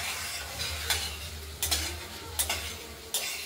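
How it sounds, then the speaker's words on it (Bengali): A spoon stirs spice paste with tomato frying in oil in a pan, giving a steady sizzle broken by several sharp scraping strokes at an even pace, close up and with no talking. "মশলাটা কষানো হয়ে গেছে"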